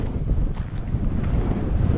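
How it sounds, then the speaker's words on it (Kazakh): Strong wind gusts against the microphone on a riverbank, making a steady, loud rough buffeting roar with low rumbling and no talking. "Бірақ дала жел болып тұр бір жаман."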